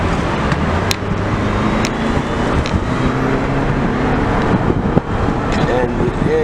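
A car accelerates onto Highway 95 southbound in Florida, its engine and road noise droning steadily from inside the cabin with a dense rumbling wash and faint squeaks.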